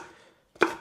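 A knife cubes food on a cutting board: a fading tail of the previous cut, a short silence, then one sharp, close chop striking the board.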